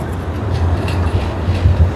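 A tram rolls past in a busy city spot, giving a steady, close low rumble with faint rail clatter that swells slightly near the end over two seconds.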